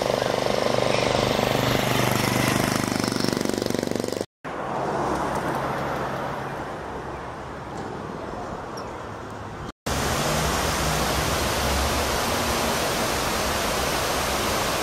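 The Torondoy River rushes in a constant broadband roar, loud and close, split into segments by brief cuts, with the flow slightly softer in the middle stretch.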